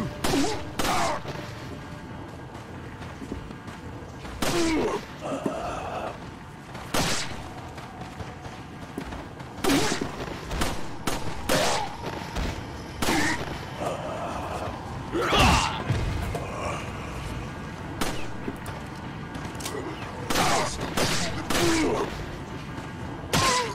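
Regular-weapon gunfire in Resident Evil 4, heard as a series of sharp, loud shots spaced irregularly, mixed with thuds and crashes from the game.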